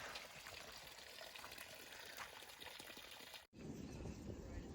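Water trickling and pouring while a bottle is filled on the Appalachian Trail, a faint steady dribble with a brief break before the flow resumes.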